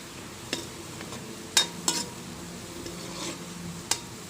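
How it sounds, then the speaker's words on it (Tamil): Spatula scraping and stirring onions sautéing in a pan with a low sizzle underneath, punctuated by a few sharp metallic clinks of utensil against the pan. "நல்லா கைவிடாமல் வணக்கி விடுங்க."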